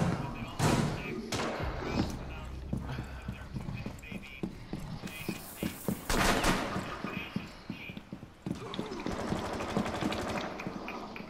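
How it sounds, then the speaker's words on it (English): Gunfire in the shooter game Rainbow Six Siege, a busy mix of repeated close shots and bursts among footsteps and game noise, with a player's voice briefly audible amid the action. "I freaking shot at someone."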